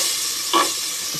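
Onions hitting hot oil in a pan while cooking menudo, giving a brief burst of sizzling that rises over a steady background hiss and then settles, with no talking.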